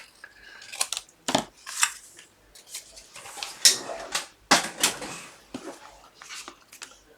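Card stock for a handmade stamped greeting card is being cut, giving a series of crisp, irregular snips and rustles, close and fairly quiet, with no voices.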